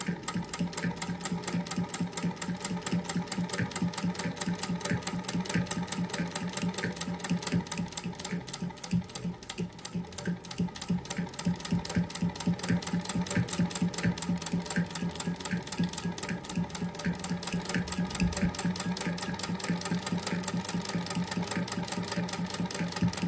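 A Singer 201K sewing machine stitching at about 15 stitches per inch, with a steady, even mechanical whir and rapid needle rhythm running continuously at moderate volume.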